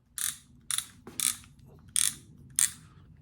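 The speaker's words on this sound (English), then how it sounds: "Let's see what the clicker sounds like." Clicker on a catfish fishing reel ratchets in five short, evenly spaced bursts of sharp clicking, close and clear against a quiet background.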